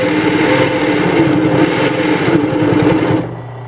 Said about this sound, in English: you'll stop and turn around and continue to sew in the direction that you intend.